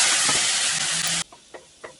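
A loud burst of hissing and steaming as white wine hits a hot pan of shrimp, cutting off abruptly, followed by a few soft clinks and bumps.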